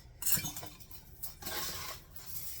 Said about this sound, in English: once the granola is done, I use a half-gallon jar actually. And then you're going to scoop it right in there.